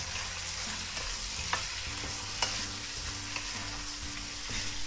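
Pork browning in a hot pan, a steady close sizzle with occasional sharp pops and stirring scrapes, no voices.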